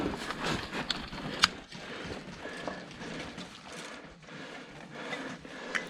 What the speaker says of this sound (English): You can kind of hear them clanging whenever I walk around.